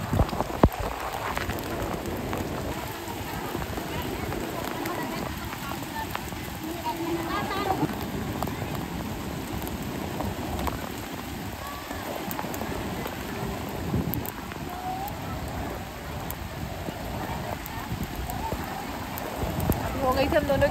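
Heavy rain pours steadily in Haridwar, a dense continuous hiss of drops hitting surfaces close by, with voices talking over it throughout.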